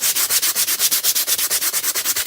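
Painted wood on a small craft piece being sanded by hand in quick, even back-and-forth strokes, a rhythmic scratchy rasp repeating about eight times per second, close and loud, with no voices.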